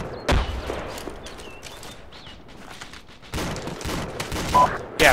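Gunfire in a military shooter game, likely a medium machine gun: a sharp burst near the start, then a denser cluster of rapid shots later, with radio-style voices talking over it.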